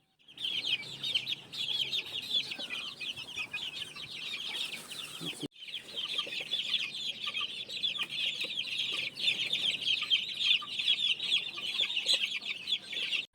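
White brood hens and chickens clucking in a game farm pen, a continuous chorus of close, busy clucks and chirps with a short pause midway, and no talk over it.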